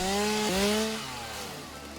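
A chainsaw in the video game Satisfactory runs with a steady buzzing drone that dips in pitch, then settles to a lower, quieter idle, close up with no talking.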